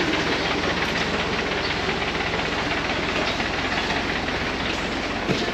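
Steady loud rumble and hiss from riding inside a simple, cold bus in Mindanao, Philippines, with continuous engine and road noise and rattling, no talk.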